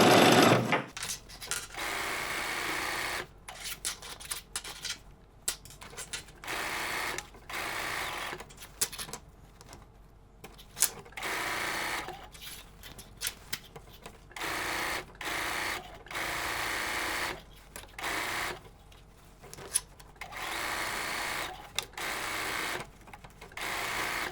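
A sewing machine stitches the angled side seams of a fabric overnight bag, running in repeated bursts of rapid mechanical whirring separated by short pauses, close and steady.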